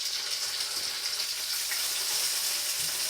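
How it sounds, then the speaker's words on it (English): Steady broadband hiss of peppers sizzling in a hot frying pan, continuous and fairly close, with no talking. "You're going to hear a little sizzling."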